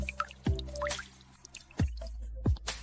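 Drops of filtered water falling from the bottom of a layered homemade filter, three distinct plops spaced about a second apart, close and clear against a quiet background.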